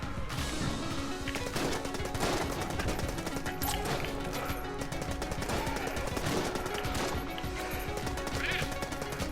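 Rapid gunfire and ricocheting bullets from the video game Enter the Gungeon, dense and continuous under a busy game soundtrack, with bursts of shots and clattering impacts throughout.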